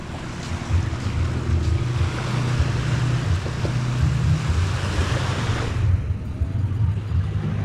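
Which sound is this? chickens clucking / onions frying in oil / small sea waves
small sea waves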